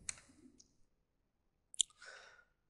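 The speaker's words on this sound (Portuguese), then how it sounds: "Dei um Enter" A single Enter key pressed on a computer keyboard gives a short, close click, heard alone in a quiet room, with a brief soft breath before it.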